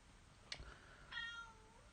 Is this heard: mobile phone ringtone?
no